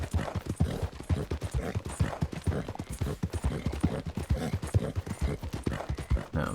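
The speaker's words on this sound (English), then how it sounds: "Horse is getting upset." Horse hooves clip-clopping in Red Dead Online, a steady rapid rhythm of close hoofbeats at a trot on hard ground, continuous throughout.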